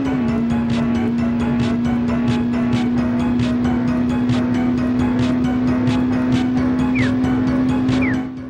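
A steady, droning synthesized race car engine from the SNES game The Duel: Test Drive II hums at constant pitch with a buzzy, rapid rattle, loud and continuous, with a couple of brief squeals near the end.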